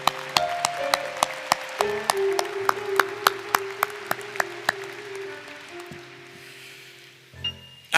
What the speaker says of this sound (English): Can we have another round of applause, please, for Mr. McBee?